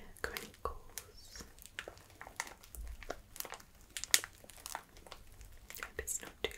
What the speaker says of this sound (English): Do a few bag crinkles.